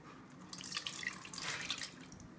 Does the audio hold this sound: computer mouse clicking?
no